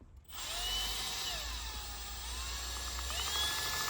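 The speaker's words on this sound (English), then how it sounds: "So I've got that hooked up to the test rig, which is hooked up to the drill." A power drill spins a speedometer test rig wired to a Gen 2 Pajero speedo and tacho, giving a steady close whirring drone with rising and falling tonal sweeps, running continuously without speech.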